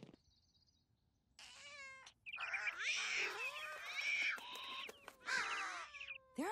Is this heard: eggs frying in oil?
no